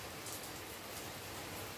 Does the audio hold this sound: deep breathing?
no